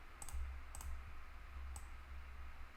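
A computer mouse clicked three times at a desk, sharp close clicks in a quick pair, then another pair, then a single click, over a faint low hum.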